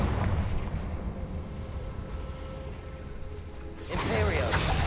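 Confringo fire spell blasts in the video game Hogwarts Legacy, a rumbling low roar of fiery impact that swells into a loud bright burst near the end, with game noise throughout.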